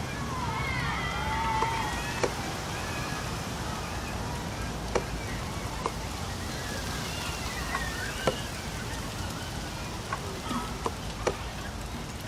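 Rain beginning to fall in the video game Heavy Rain, a dense continuous hiss of droplets with scattered small ticks and drips, fairly loud and even throughout.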